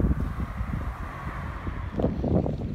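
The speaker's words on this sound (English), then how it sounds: "It's very windy around here" Steady low wind rumble buffets the microphone during an outdoor evening walk, a broad continuous roar with gustier bursts toward the end, heard alone without talk.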